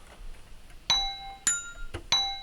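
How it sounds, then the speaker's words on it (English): Three bright, high bell tones ring out one after another, each struck cleanly and left to ring, over a quiet background. "We have these high bells as well."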